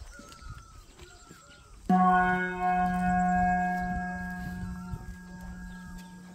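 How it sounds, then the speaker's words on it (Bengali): A monastery bell in Rinchenpong, Sikkim, is struck once, loud and close, and its rich tone rings on and slowly fades over faint outdoor ambience and distant birdsong. "এখানে ঘন্টাটা বাজানো হচ্ছে"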